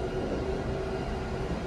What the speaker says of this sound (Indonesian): ini kereta api Argo Cirebon sudah diberangkatkan dari stasiun Gambir tepat waktu dan sekarang sudah melintas di wilayah stasiun Buaran